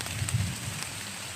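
Heavy rain falls as a steady, dense hiss, close and even, over a short stretch with no other distinct sounds.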